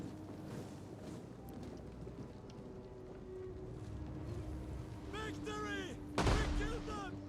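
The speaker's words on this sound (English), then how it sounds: "they are actually firing their ballistas. So a little bit of extra artillery here for the attackers" Scorpion artillery firing during a siege battle in Total War: Rome 2, heard as rumbling battle noise under steady low din, with a sharp loud launch burst near the end amid whooshing projectile sounds.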